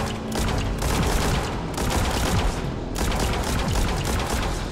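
Bursts of rapid rifle fire in the sci-fi game Genesis Alpha One, loud and close, two long volleys with a brief pause between them, no talking.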